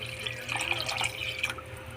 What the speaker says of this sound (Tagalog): Lagyan ko na ng tubig para lumambot na siya.